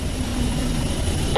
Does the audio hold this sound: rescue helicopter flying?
yes